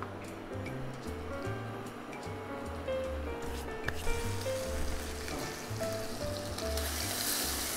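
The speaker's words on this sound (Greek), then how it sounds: "Το βάζουμε στο τηγάνι από την πλευρά που έχουμε μαρινάρει" A marinated French-cut rack of lamb sizzles steadily in a hot frying pan, a continuous crackling hiss that swells a little midway, with soft background music underneath.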